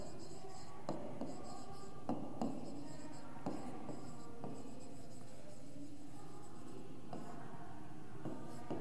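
Marker or chalk scratches across a board during a first-grade math lesson on patterns, making soft, irregular strokes and taps that come in bursts, faint and close, with no clear speech.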